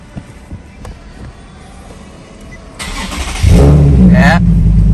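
A Nissan 370Z engine cranks and catches, starting loudly at close range and settling into a strong idle rumble after a few quiet seconds.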